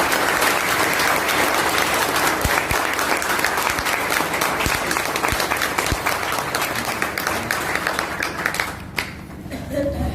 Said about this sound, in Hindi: ताली बजा सकते हैं एक बार?